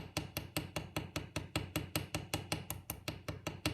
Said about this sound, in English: With the round part of the hammer, the ball part, ball peen is what it is, I'm just going to lightly